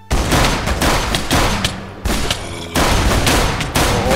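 Sustained, loud automatic gunfire in a zombie cartoon, heavy bursts rattling almost continuously with brief breaks between volleys.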